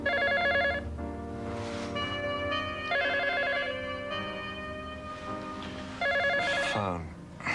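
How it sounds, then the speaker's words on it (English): Telephone ringing in bursts of electronic trilling tones, fairly loud, set against background music and a busy room atmosphere. "Phone."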